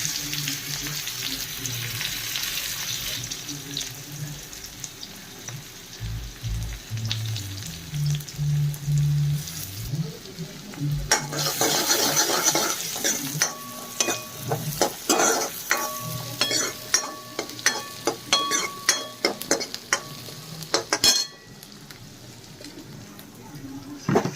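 Onion sizzles in hot oil in a kadhai with cumin seeds, frying loudly and steadily and stirred with clattering utensil scrapes, while someone talks over it at times.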